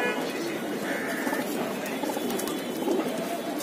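Pigeons in a rooftop loft in Mumbai, India, cooing steadily and softly in a continuous chorus, with faint voices in the background.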